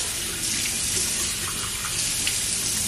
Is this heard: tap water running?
yes